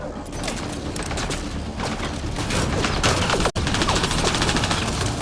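Sustained automatic gunfire in a Mass Effect Andromeda firefight rattles on without pause, loud and dense, with clatter and impacts layered over it and a brief cut near the middle.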